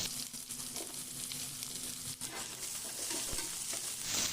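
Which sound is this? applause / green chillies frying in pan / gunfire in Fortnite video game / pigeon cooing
green chillies frying in pan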